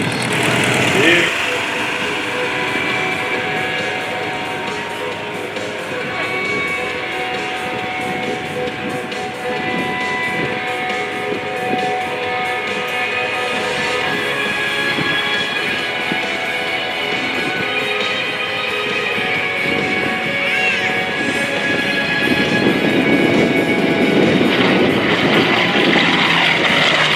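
Pratt & Whitney radial engine of an F4U Corsair at an airshow, a steady deep rumble that continues throughout and swells slightly near the end, heard from a distance with wind noise.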